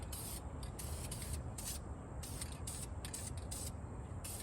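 Short repeated bursts of hissing spray as BHT paint is sprayed from an aerosol can, close and steady, over a constant low background rumble.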